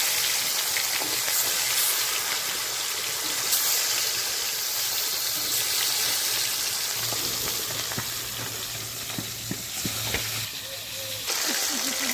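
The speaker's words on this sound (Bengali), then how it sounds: "দিয়ে দিচ্ছি কড়াইতে তেল" Sea fish rubbed with salt and turmeric fries in hot oil in a wok, giving a loud, steady, close hiss of spitting oil that runs unbroken throughout.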